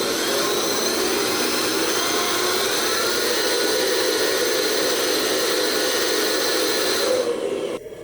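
A 1/14-scale metal hydraulic RC dump truck creeps along at low speed, giving a steady, close electric motor and gearbox whine that holds level without a break and then cuts off abruptly near the end.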